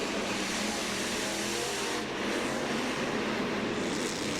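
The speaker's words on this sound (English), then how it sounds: "you hear that motor on Goldberg?" The Goldberg monster truck's engine roars at a Monster Jam race in San Antonio, a dense, loud, sustained motor howl heard at a distance through arena noise, steady throughout.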